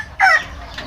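A rooster in the Antipolo area gives a single short, loud cluck-like call close by, with no talking over it.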